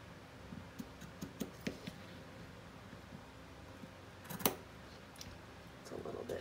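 Scissors snip through ribbon in a quiet room, a string of small sharp clicks and cuts, close by, with a faint rustle near the end.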